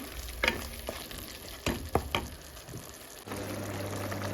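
Turmeric, chilli and coriander powders with green chillies fry in a pan, crackling loudly with a few clanks of stirring, then settling into a steady close sizzle.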